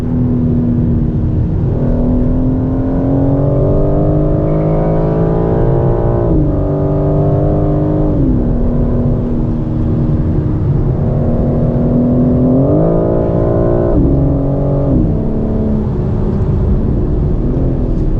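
A 2023 BMW M4 Competition on a race track, heard from inside the cabin: the engine's loud, steady drone climbs in pitch under acceleration, drops sharply at each gear change and winds up again, with no talking.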